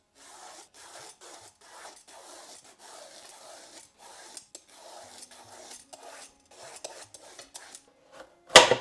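A bottle gourd (lauki) is peeled and then rubbed against the thick side of a grater in a home kitchen. Steady, rhythmic scraping strokes repeat close by, and a sharp metallic clatter closes the sequence.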